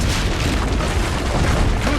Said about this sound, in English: Use the cannons above the rampart.